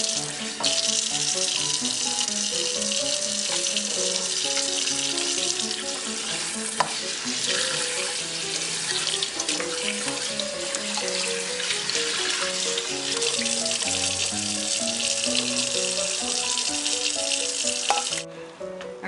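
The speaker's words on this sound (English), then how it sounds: "I always wash the rice and clear most of the starch out of it. Washing it several times." Rice is rinsed under a running kitchen tap to wash out the starch, a steady broad hiss of flowing water with soft sloshing and stirring throughout, close and continuous, with no talk.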